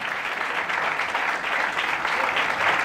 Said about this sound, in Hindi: भाई के लिए जोरदार तालियां बजाएं।